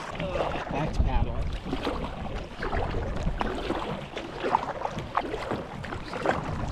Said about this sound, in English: Back to paddling.